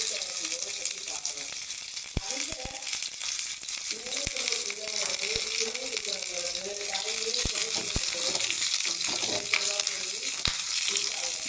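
Onions and curry leaves sizzle continuously in hot oil after mustard seeds have popped, a dense close crackle with occasional sharp pops and a faint voice underneath.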